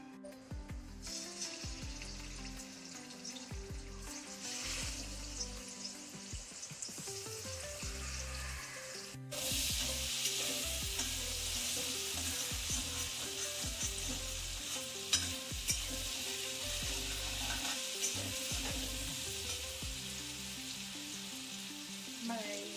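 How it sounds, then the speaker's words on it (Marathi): Rohu fish pieces rubbed with salt, turmeric and red chilli fry in hot oil, a steady crackling sizzle that grows louder partway through, with occasional clinks, close and without talk. "आता मी ते तळून घेते।"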